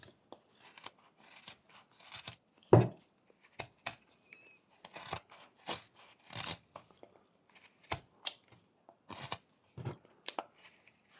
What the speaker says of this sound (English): So I'm gonna make a stop cut.